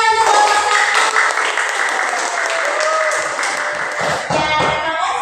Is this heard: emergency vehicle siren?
no